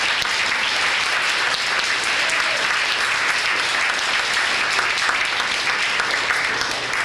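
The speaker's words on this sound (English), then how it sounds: "So how about a nice round of applause for them?" Sustained audience applause fills a high school winter sports banquet hall, dense and steady from start to finish with no talking over it.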